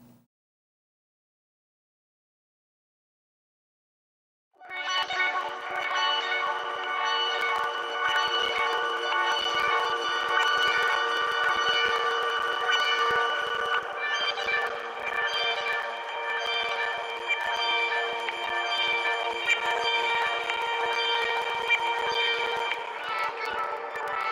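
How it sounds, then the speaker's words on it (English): Absynth synth patch built from a chopped sample, sounding as dense, evolving little plucks that shimmer steadily across the midrange after a few seconds of silence, with no one speaking. "it's kind of chopping up through frequency like little plucks"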